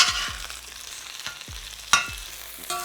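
Pieces of chicken breast sizzle steadily in a hot wok while a metal utensil scrapes and clanks against the pan several times at uneven intervals, close and clear.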